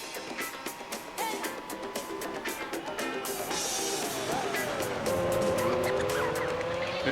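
Older Honda NSX race cars in Gran Turismo 4 drive at speed with a busy, rising engine whine, rapid repeated clicks and a brief tire squeal, loud and continuous.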